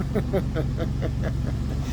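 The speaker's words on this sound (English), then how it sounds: "Van is idling real smooth." A 2004 Chevrolet Astro van engine idles smoothly with a steady low rumble and rhythmic pulsing, close and continuous, while a person talks over it.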